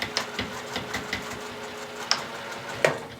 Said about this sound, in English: So I'm going to take a few stitches forward and then back stitch.